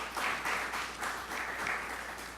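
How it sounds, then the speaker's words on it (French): Applause from an audience at a French-language career talk, a steady wash of clapping in soft rhythmic swells, moderately distant and fairly quiet, with no voices over it. "Sur vos applaudissements"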